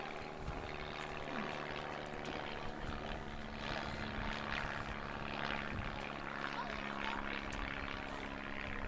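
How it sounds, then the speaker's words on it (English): A small old propeller plane drones steadily overhead during an outdoor women's game, a continuous low engine hum sitting beneath crowd noise and distant voices for the whole stretch. "it looks like there's a little old plane that wants to join in and watch this game as well"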